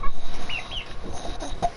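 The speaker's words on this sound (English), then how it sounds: "Have you heard chicken noises?" A chicken clucks in a couple of short, close calls over a steady background hum, with a faint higher chirp near the end.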